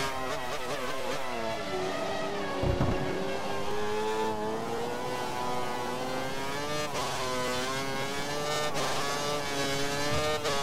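A Sauber Formula 1 car's engine in the F1 2013 racing game screams at high revs, steady and loud, with gear-change dips and rising pitch sweeps throughout.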